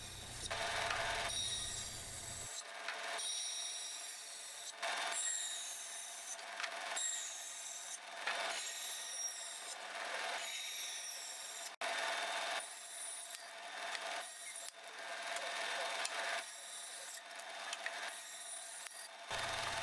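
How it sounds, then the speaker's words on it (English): A bandsaw rips wooden tenons for a pair of French doors, a steady close rasping cut broken into repeated passes with short gaps, the blade running on alone with no voices. "Now over to the bandsaw, we rip all of our tenons on the bandsaw."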